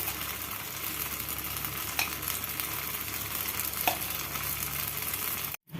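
A rava dosa fries on a hot pan with a little ghee spooned on top, producing a constant dense sizzle, close and even, with a couple of faint taps and a brief cut-out near the end.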